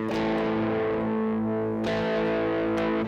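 A sustained, heavily distorted electric guitar tone played through a Yamaha keyboard's multi-effects distortion setting rings out with layered effects, holding a dense chord with a couple of sharp re-attacks, no voices.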